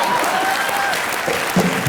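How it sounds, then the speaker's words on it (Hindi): A studio audience at a Hindi comedy show bursts into loud, sustained applause, a dense even wash of clapping from many hands with faint crowd murmur underneath. "जोरदार तालियां मेरी एक्टिंग के लिए हो जाए"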